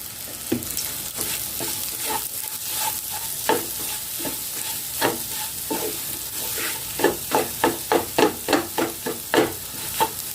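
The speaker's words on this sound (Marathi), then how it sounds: "थोडं थोडं तूप आपल्याला यात घालायचं आहे आणि हे व्यवस्थित भाजून घ्यायचं आहे" A spoon scrapes and stirs moong dal halwa as it roasts in ghee, a constant soft sizzle under repeated scraping strokes that turn quicker and more rhythmic toward the end.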